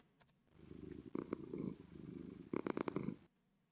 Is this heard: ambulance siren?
no